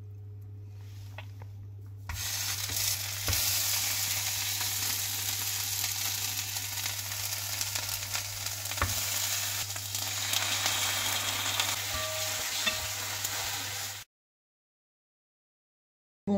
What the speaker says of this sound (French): Je vais commencer par faire déglacer à la sauce yakitori, donc le petit tofu